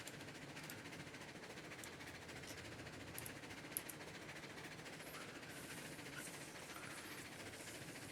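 Steam locomotive train running in the video game Railroads Online: a steady, fairly quiet rumble and hiss with light rhythmic clicks and occasional faint metallic ticks throughout.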